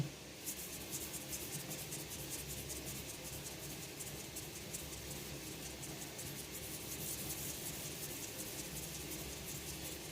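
Fine-grit 1000 sandpaper rubbing across a scratched watch crystal, a steady, close, even scratchy hiss that continues without break.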